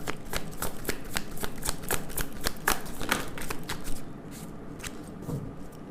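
A deck of tarot cards is shuffled by hand in quick, crisp riffling bursts at close range, a run of sharp card slaps that thins out toward the end, with no voice.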